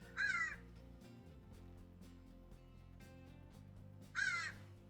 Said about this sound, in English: birds outside. They're very talkative at this time of the day.